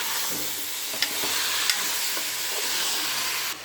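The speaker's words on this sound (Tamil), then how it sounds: "ஒரு 2 நிமிஷம் அப்படியே நல்லா வதக்கி விட்டோங்க." Chicken pieces sauté in a hot pan with a steady bright sizzle and occasional soft scrapes and taps of stirring, loud and close, with no talking.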